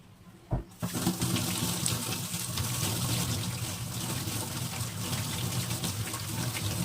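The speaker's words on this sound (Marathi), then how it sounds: "तोपर्यंत कोथिंबीर धुवून घेते" A faucet switches on after a brief click and runs steadily, water splashing over coriander leaves held under the stream in a sink, close and continuous.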